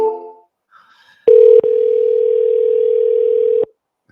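A telephone dial tone sounds: a short burst, a brief break, then a steady loud continuous tone lasting about two seconds before cutting off, preceded by a faint voice.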